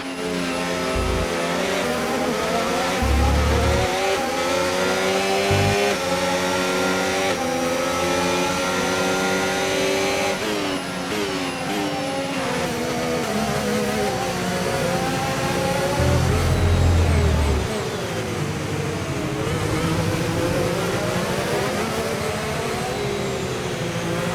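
Formula 1 race car engines in the F1 25 game at the Brazil circuit scream steadily and loudly throughout, rising and falling through gear changes, with occasional low rumbles from kerbs or passing cars.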